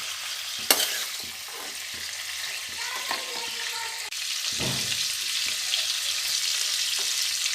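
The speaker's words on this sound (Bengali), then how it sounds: "আমাদের কাঁচাটা খায় না তাই একটু ভেজে নিচ্ছি মাছগুলো" Bagda tiger prawns lightly frying in a pan, giving a continuous close sizzle with short taps and scrapes from turning them, one sharp clack early on, and the hiss swelling louder partway through.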